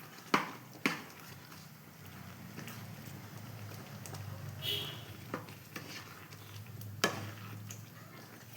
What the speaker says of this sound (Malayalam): എല്ലാം കൂടി ഇളക്കി ചേർത്ത് നല്ല അടിപൊളിയാക്കി ചേർക്കാം